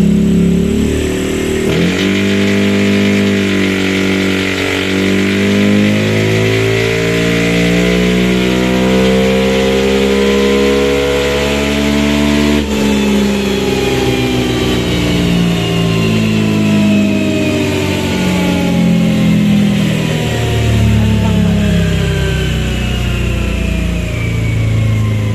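A Honda Beat motorcycle with a remapped engine revs hard on a dyno during tuning. The engine climbs steadily in pitch through a long, loud, continuous run, dips briefly and then winds up again, with no talk over it.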